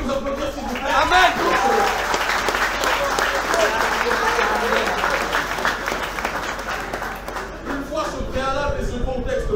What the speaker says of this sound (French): je vous demande de vous applaudir, s'il vous plaît